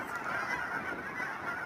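Migratory geese honking on a lake in winter, a dense chorus of overlapping honks at moderate distance, steady throughout the short stretch.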